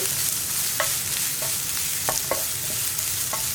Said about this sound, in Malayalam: ഇതെല്ലാം ചേർത്ത് നന്നായിട്ടൊന്ന് ഇളക്കി